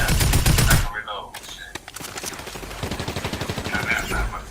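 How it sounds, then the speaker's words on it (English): Video game gunfire, with single loud shots at first, then a steady rapid automatic burst of evenly spaced rounds near the end, while players talk at the start. "You just went in there and started shooting."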